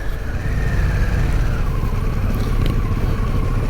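A Harley-Davidson Pan America motorcycle engine drones loud and close, riding off-road along a wet, slippery adventure trail, with a sustained rumbling tone that rises slightly partway through.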